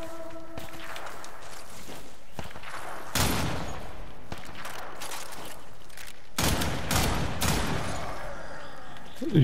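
Gunfire from the video game Warframe comes in two loud broadband bursts of rapid shots, with quieter in-game noise between them.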